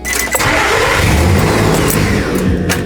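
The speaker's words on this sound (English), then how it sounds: "first I started the truck up and everything seems to be pretty smooth" A Nissan Frontier truck being built as an overland prerunner cranks, fires up and settles into a smooth, steady idle, loud and close throughout.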